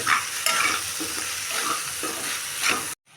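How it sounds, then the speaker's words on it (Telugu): Bottle gourd cooked in milk is stirred in a pot, with a hissing simmer and a few rhythmic scraping strokes before the sound cuts off abruptly. "ఇప్పుడు కూర కింద నుంచి మొత్తం బాగా కలిపిద్దాం"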